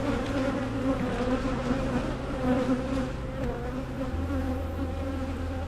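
Honey bees drone in a continuous, dense hum during an open hive inspection, close and fairly loud, with no talking.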